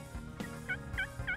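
A wild turkey gobbles in a rapid, warbling series of calls, faint and somewhat distant, with no talk over it.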